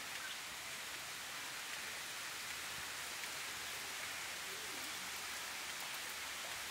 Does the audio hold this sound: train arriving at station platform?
no